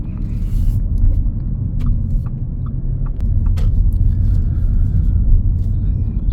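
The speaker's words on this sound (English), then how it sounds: "So we're gonna go down this bumpy road, a little bit bumpy." An Audi A5 S Line Premium Sportback rolls along a bumpy road, heard from inside as a heavy, continuous low rumble with occasional soft thumps from the uneven surface.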